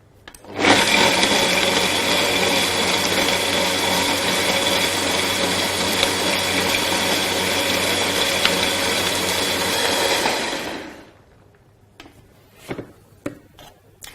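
A blender runs steadily for about ten seconds, grinding almonds and water into almond milk with a loud, even whir, then cuts off, leaving a few faint clinks.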